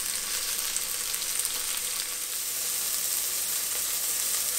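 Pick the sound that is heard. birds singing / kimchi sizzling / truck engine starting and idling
kimchi sizzling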